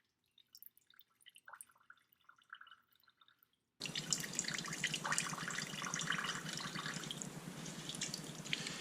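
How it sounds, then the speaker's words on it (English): Water from a wrung-out kitchen towel, a few faint scattered drips at first, then a steady loud trickling stream pouring down continuously, close by. "And we want to take the excess towel and we just want to wring it out."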